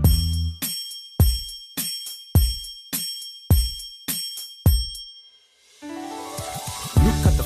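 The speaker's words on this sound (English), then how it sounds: "you can hear the bell chime. Hear it chime up to nine." A bell rings nine clear, evenly spaced strikes, each ding decaying before the next, loud and close, followed by a brief tinkling musical phrase.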